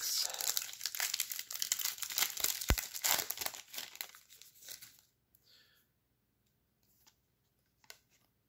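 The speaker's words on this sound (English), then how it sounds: "We're ripping boxes like our lives depended on it." Topps Star Wars Chrome trading card boxes being ripped open, with dense close crinkling and tearing of wrapper and cardboard that fades after a few seconds into near silence, broken by a couple of faint clicks.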